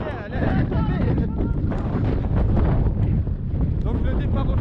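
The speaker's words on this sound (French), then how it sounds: "Tellement il y a le vent avec la pluie." Strong wind with rain buffets the microphone outdoors on a trail-running course. The blustery rumble is loud and continuous, with gusts rising and falling, and faint voices may sit beneath it.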